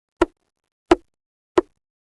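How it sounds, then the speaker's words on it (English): Three loud, sharp knocks on a door, evenly spaced about two-thirds of a second apart, each dry and close, with silence between them. "Another knock,"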